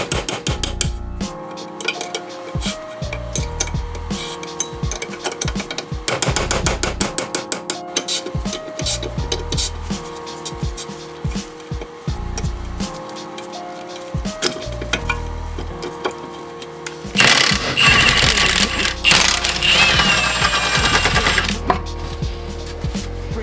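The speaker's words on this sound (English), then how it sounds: "First thing I'm gonna go ahead and do is get this brake caliper off" Metal tools click, clink and rattle while a brake caliper is taken off a Toyota Cressida, with dense bursts of ratcheting and clanking close by. Near the end there is a louder stretch of gritty scraping.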